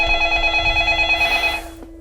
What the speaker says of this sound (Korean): 최동원 집으로 전화가 걸려왔어.